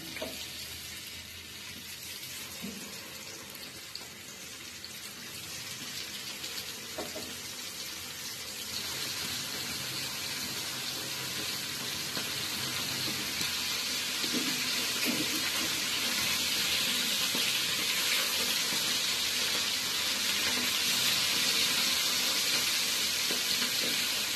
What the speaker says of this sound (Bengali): এখন হলুদ মরিচ দিয়ে মাখিয়ে রাখা মাছগুলো দিয়ে দিলাম।